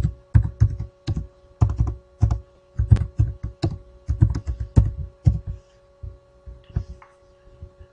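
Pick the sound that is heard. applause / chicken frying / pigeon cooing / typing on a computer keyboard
typing on a computer keyboard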